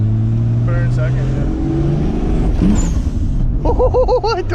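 Engine of a Toyota Supra truck with a new intercooler setup running hard in second gear, a loud steady low drone that climbs as it accelerates, with excited voices shouting over it near the end.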